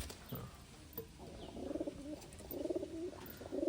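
A highflying pigeon coos softly in a few repeated rolling bursts, close by, with faint chirps and background rustle and no talking.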